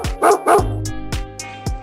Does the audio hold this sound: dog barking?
yes